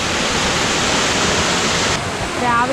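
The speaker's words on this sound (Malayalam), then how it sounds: "ഇതാണ് നമ്മുടെ വാട്ടർഫോള്. ഇത്രയും ഉയരത്തിലാണ് വെള്ളം ചാടി വരുന്നത്." A tall waterfall crashes down in a loud, continuous hissing roar at close range, with no speech heard.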